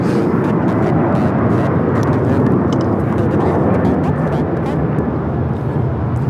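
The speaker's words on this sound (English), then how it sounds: "This is United Airlines 2218 taking off to Houston Intercontinental on the 737-900ER" A United Airlines Boeing 737-900ER takes off from LAX bound for Houston, a loud, sustained jet-engine roar that fills the scene from start to finish.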